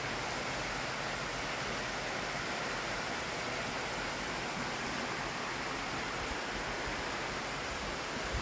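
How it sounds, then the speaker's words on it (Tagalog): A stream flows beside a riverbank campsite at an adventure park in Real, Quezon, giving a steady, broadband rushing wash of water with no voices. "Ito yung Batis."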